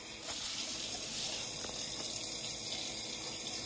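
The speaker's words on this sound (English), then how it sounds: "you're going to go over to your sink, and you are going to fill it up with water" Water running from a tap into a sink as it fills, a steady close splashing gush that continues evenly with no talking.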